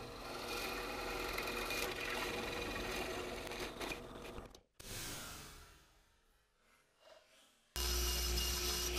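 A drill bores a hole in wood sized to let a closet rod spin, grinding steadily and loudly up close, then cutting out, winding down, and starting again at full strength near the end.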